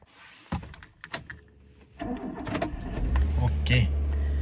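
A car engine starts on the first crank after a few door and key clunks, then settles into a steady, loud idle close by.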